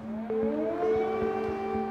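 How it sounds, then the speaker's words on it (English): Wailing air raid sirens at night in Ukraine, a steady drone joined by a rising tone that climbs and holds, layered and sustained with a faint rhythmic thump underneath. "The night is torn by the shriek of sirens"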